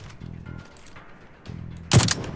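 Gunfire in a first-person shooter video game: a sharp, loud burst of shots near the end, after quieter low thumps and faint background game noise.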